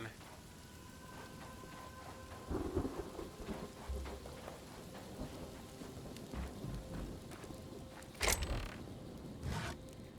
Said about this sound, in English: Rare desert rain.